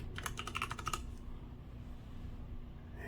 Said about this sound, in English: And I'm going to type in blink.